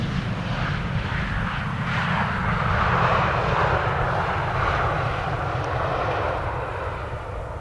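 A wide-body airliner landing at Amsterdam Schiphol Airport, its jet engines a steady low roar and broad rushing hiss that swells and fades slightly over several seconds at moderate distance, with no talk.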